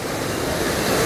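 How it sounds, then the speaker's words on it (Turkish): Broad, steady roar of river water rushing past near a waterfall by the Clandras Bridge in Uşak, Turkey, a continuous dense wash heard close with no talk. "Suyun gürül gürül akıp geçtiği bir nehir."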